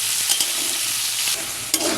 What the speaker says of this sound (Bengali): এটা আলুগুলো এই তেলেতে আমি একটু ভেজে নেব 2 মিনিটের মতো